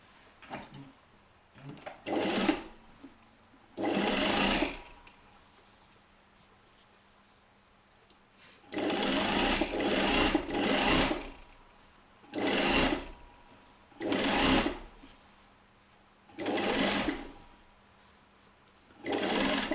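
A sewing machine stitches a corset seam in short repeated runs of a few seconds each, close and clear, separated by quiet pauses with faint background sounds.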